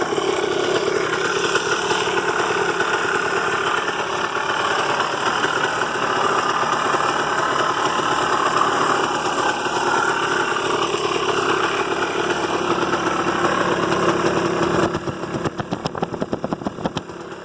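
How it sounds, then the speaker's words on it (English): A 2003 Yamaha Blaster two-stroke ATV engine idles steadily and loudly up close, a buzzy continuous putter that turns choppier and rougher near the end. "As you can see, it starts right off."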